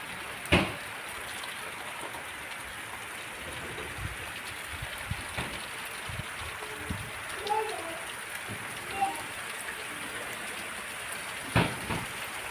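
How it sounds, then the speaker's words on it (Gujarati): Steady rain falling with a soft continuous hiss, a few louder drips and knocks standing out now and then, no talking. "હજુ અહીંયા થોડીક વાગ્યા સુધી આવી ગયો છે વરસાદ"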